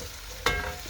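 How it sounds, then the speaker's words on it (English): Onions sizzle in a pan with a quiet background crackle, then a single sharp scrape of a spoon stirring them, followed by continued frying hiss. "I'm just gonna give them a quick stir for now"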